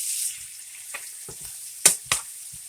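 Shrimp sizzle in garlic butter in a hot pan, a steady high fizz broken by a few sharp crackles and stirring clicks.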